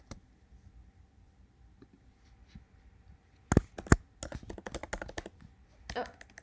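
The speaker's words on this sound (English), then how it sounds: "why am I typing?" Computer keyboard typing: a quiet stretch, then rapid, close, crisp clicking bursts of keystrokes in the second half, with a brief pause before one last flurry.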